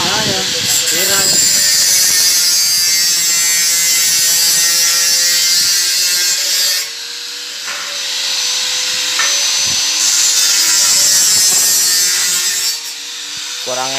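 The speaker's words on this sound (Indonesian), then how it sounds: "motong gitu aja sekarang pakai gerinda potong" A loud, steady grinding whine of an angle grinder cutting metal for a fence, harsh and close, dipping briefly midway before resuming at full intensity.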